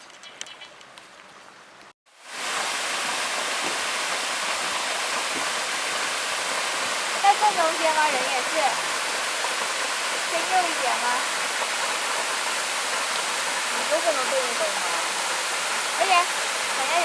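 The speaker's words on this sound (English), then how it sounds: "We are walking to Russell Falls" Russell Falls in Tasmania, reached through a fern-filled gully, pours as a steady, full roar of falling water that begins abruptly after about two seconds of quieter ambience and then holds at a constant loud level.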